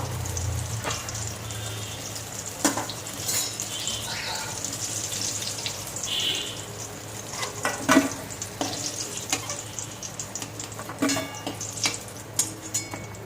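Potatoes fry in hot oil for a raw-banana kofta dish, giving a constant close sizzle broken by repeated stirring scrapes and light clinks of a spatula against the pan.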